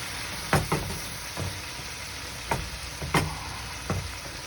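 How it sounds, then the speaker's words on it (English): King prawns sizzle in a pan while ouzo cooks off, a constant frying hiss broken by a few sharp spatula clacks and stirs, up close with no talking. "we are just gonna let it cook and evaporate all the ouzo"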